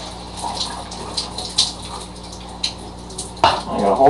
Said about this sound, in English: So I pour the iced tea in the one cup.